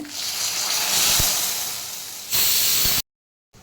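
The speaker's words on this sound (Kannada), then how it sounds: "ಈಗ ನಾವು ಒಗ್ಗರಣೆ ಹಾಕೋ ಸಾರಿಗೆ" Hot oil tempering with mustard seeds, curry leaves and a byadgi chilli hisses sharply as it is poured into temple-style sweet pumpkin sambar. The loud, steady sizzle breaks off and then resumes briefly.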